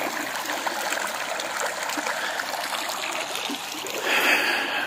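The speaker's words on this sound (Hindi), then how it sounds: "पानी की आवाज़ सुने ज़रा।" Water from a mountain stream in Minimarg Valley flows steadily and close by, a continuous broad rushing wash that swells slightly louder near the end, with no voices.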